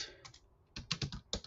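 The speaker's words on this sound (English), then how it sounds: "You type that right into your browser." Brief bursts of keys tapped on a computer keyboard, a few irregular clicks followed by a quicker cluster of strokes, close and fairly quiet with no voices.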